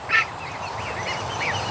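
A large male goose among ducks, including small Muscovies, in a duck and goose hatching setting, lets out one loud nearby honk followed by softer, quieter calls.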